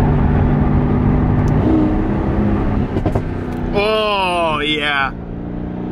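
Mercedes-AMG GT S with a straight-pipe turboback exhaust idles with a loud, deep, rumbling drone, then a sharp rising-and-falling whine cuts in near the end; a person speaks briefly over it.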